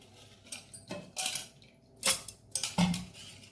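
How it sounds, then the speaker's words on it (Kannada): Dry rice grains poured into a steel mixer grinder jar for dosa batter, heard as a few sharp metallic clinks and rattling scatters in short bursts, close and moderately loud with no talking. "ಮಿಕ್ಸಿ ಜಾರಿಗೆ ಮೊದಲಿಗೆ ಅಕ್ಕಿ"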